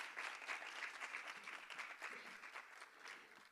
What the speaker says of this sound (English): Can we give a round of applause for that powerful introduction?